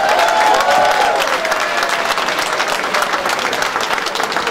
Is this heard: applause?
yes